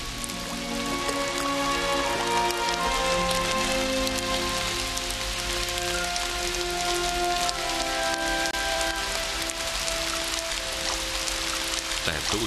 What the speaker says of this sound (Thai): พายุฝนฟ้าคะนองในหน้าร้อนปล่อยฝนของทั้งเดือนออกมาได้ภายในไม่กี่นาที